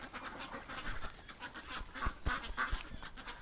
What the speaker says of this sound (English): You're such a little duck.